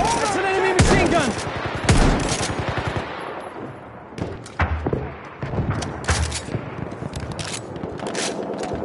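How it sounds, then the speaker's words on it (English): An enemy machine gun fires in Battlefield 1, with rapid, loud bursts of gunfire coming in repeated rattling volleys, separated by short gaps filled with lower battle noise. "That's an enemy machine gun!"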